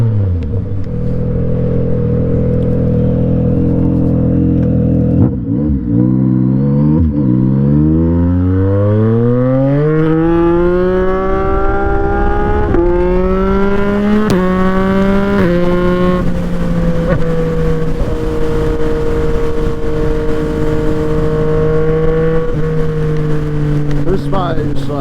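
A Yamaha MT-09 motorcycle engine revs hard during a wheelie, loud and close, with a deep rumble climbing in pitch through the gears and the rising whine holding high, with speech mixed underneath.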